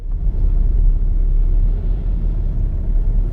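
Inside a moving car, a steady, loud low rumble of road and engine noise fills the cabin, with no voices over it.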